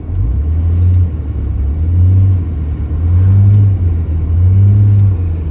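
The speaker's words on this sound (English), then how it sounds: "Not much throttle input, getting a lot of oomph out of the truck." A deep, close diesel pickup truck engine, a 6.7 with a CP3 pump swap and 10mm injectors, rumbles steadily, swelling in strong surges about every second and a half as it pulls hard. No one speaks.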